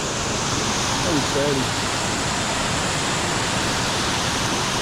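Williams River Falls in Barrington Tops, New South Wales, rushes over rock in a steady, dense broadband roar that fills the whole clip, with a person talking briefly over the water.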